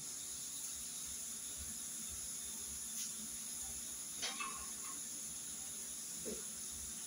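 Garlic sautéing in hot oil in a home kitchen pot, a steady low sizzle and hiss throughout, with a few faint utensil clinks and taps, no talking.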